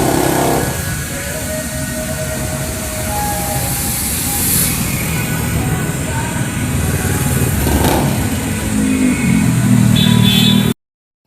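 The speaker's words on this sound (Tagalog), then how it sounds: "yung exhaust natin, ayan, 82 lang siya" A motorcycle's exhaust runs steadily during a registration renewal noise test, a continuous engine drone heard close and loud for about ten seconds with background noise and a few shifting tones, then cutting off abruptly.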